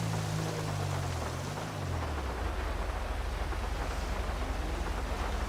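Rain falls steadily in a video game, a loud dense hiss with a low engine-like drone sliding downward early on, then a constant patter.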